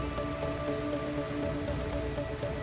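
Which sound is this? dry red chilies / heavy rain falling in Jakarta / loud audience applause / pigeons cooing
heavy rain falling in Jakarta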